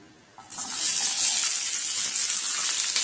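Roughly chopped onion hits about two tablespoons of hot cooking oil in a pan, bursting into a loud, steady sizzle that starts abruptly and holds strong and bright throughout.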